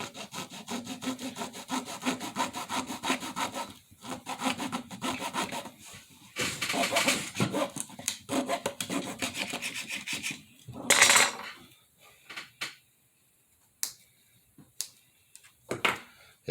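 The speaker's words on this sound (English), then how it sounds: "Then you grab yourself a little saw. Now, you want to nip the tip off of there" A small hand saw cuts the tip off a dry, hard craft hay bale: steady rasping back-and-forth strokes close up, pausing briefly, then a last burst of sawing and a few scrapes and knocks.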